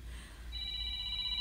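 Cellphone ringing indoors, a steady electronic tone that starts partway through and holds, over a low background hum.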